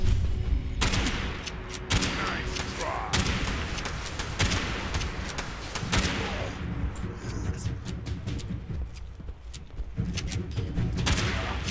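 Rapid gunfire in Fallout 76 with a hunting rifle and other weapons, sharp repeated shots and bursts in irregular clusters, loud and close across the whole stretch.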